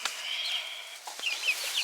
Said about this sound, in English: Bunch of birdies.